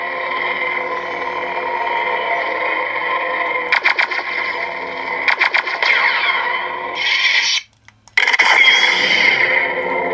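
Buzzing electronic lightsaber hum from a Xeno v3 copper-chassis saber, with several quick swooshing swings, a brighter clash-like burst, a short drop to silence, then the hum returns.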